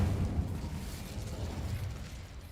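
Incendio fire spell cast in a Harry Potter video game: a low, roaring whoosh of flame that bursts loudly at the start and then tapers into a rumbling crackle, with no talking.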